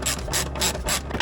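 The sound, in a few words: ratchet loosening 10 mm bolt on Toyota Sequoia airbox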